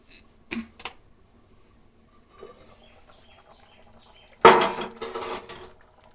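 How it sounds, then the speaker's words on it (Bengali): A metal lid comes off a pot of prawn and potato curry with a sharp clatter and scraping clinks, after a couple of lighter knocks earlier in an otherwise quiet kitchen. "ঢাকাটা এবার খুলে দেখতে হবে তরকারিটা কি হচ্ছে"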